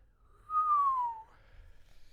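A reader imitates a low whistle with a single clear, gently falling whistled note lasting under a second, close and alone against a quiet background.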